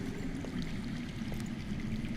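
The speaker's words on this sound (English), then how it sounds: "I hear water. From underground." Underground flowing water in a Telltale Game of Thrones game, a faint continuous rushing stream with soft trickles, steady and distant, with no talk.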